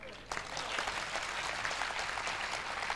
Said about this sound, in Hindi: ऐसा नहीं लगता कि तालियां कम हैं